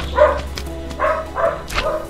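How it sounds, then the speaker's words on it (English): Close dog barking, three or four sharp barks spaced roughly half a second apart over a low background hum. "Dog is barking again."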